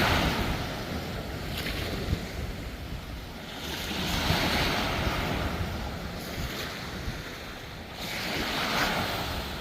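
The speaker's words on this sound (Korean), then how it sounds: "여기는 북동풍이 불고 있습니다." A northeast wind blows beside a river, making a broad, continuous rushing roar that swells and fades in gusts and buffets the microphone. No one speaks.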